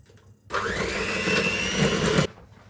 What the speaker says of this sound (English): And whisk it a bit more.